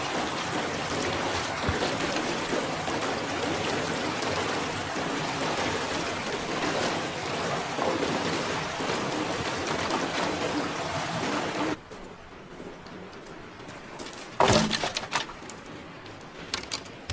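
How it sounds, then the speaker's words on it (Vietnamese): A cold, clear mountain stream in a forest flows with a dense, steady rush for about twelve seconds, then cuts out into quiet, followed by a brief close clatter. "Sau khi nhóm lửa, Sora cầm ấm nước đến bờ suối lấy nước"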